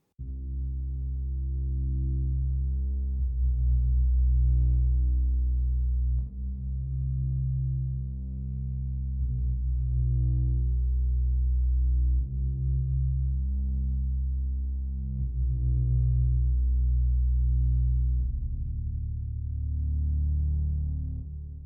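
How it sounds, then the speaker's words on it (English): Deep, smooth sine wave bass synth playing a slow sequence of sustained low notes, very clean and rounded, with nothing else above it. "I think it's a sine bass, sine wave bass."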